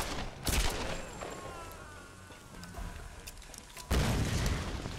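Gunshots in Tomb Raider: Definitive Edition, two loud booming blasts, one near the start and one near the end, with quieter game ambience and muffled rumbles between them.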